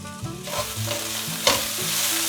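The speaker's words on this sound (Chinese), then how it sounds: "把调味料翻炒均匀。" Taro and king oyster mushroom stir-fried with rose salt and black pepper in a hot pan, a steady close sizzle broken by repeated scraping strokes of a spatula and one sharper clatter midway.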